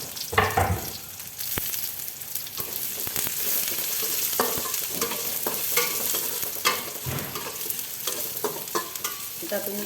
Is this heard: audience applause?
no